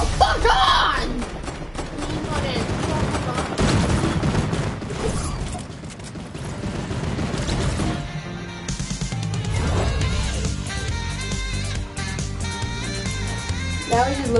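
Rapid gunfire from a video game continues steadily under loud, excited talk and yelling from players.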